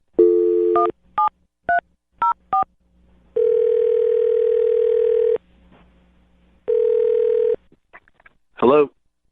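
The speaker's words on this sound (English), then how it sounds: "I'm going to dial the phone number." A telephone is dialed: a steady dial tone, then several short touch-tone beeps in quick succession, followed by long ringback tones separated by silence, all close and clear, ending with a brief warbling blip.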